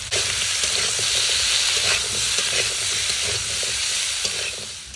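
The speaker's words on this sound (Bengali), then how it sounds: "তেলে ভেজে দিচ্ছি" Steady, loud sizzling of food frying in hot oil, a dense continuous crackle close by with faint stirring scrapes underneath, with no break over several seconds.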